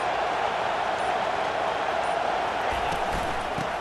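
Steady roar of a stadium crowd at a Georgia at Michigan college football video game, a continuous dense wash of noise throughout with faint cheering rising near the end.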